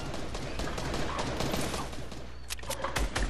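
Gunfire in an online multiplayer shooter game, a dense, continuous burst of rapid shots and blasts filling the whole stretch, loud and close, with no voices.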